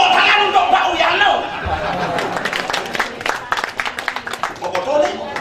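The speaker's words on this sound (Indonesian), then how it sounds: "Tepuk tangan untuk penabuh." Applause from a crowd at a wedding reception, scattered claps growing into a patter of hand claps amid murmuring voices and chatter.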